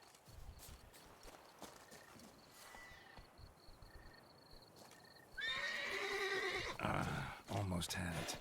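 A horse neighs in The Witcher 3, with hooves clip-clopping, a short high whinny near the middle and a louder, harmonically rich neigh in the last few seconds, set over faint background ambience.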